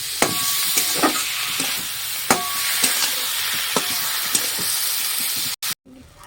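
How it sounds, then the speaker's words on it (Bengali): Lentils sizzle steadily in a hot pan while a spoon scrapes and stirs them in irregular knocks, ending with a couple of sharp clatters. "দিয়ে সুন্দর করে নাড়িয়ে নেবো"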